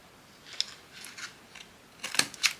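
Scissors snip paper at a craft table: a handful of short, crisp cuts spaced irregularly, quiet and close, with the last few coming quicker and sharper.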